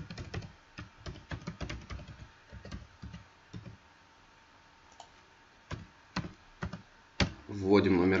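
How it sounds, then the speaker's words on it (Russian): A bank card number is typed on a computer keyboard, heard as close, crisp key clicks in uneven clusters with short pauses and a louder burst of taps near the end. "Снова нам нужно вводить номер карты."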